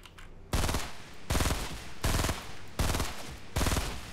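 Fortnite gunfire comes in five loud bursts of rapid automatic shots, each lasting about half a second and separated by short pauses. There is no talking.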